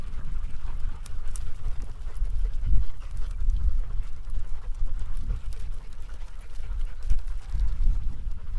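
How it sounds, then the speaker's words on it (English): A running dog named Bosco pants steadily and close, with quick rhythmic breaths and faint scuffling over a continuous outdoor background. "That's that running dog, Bosco."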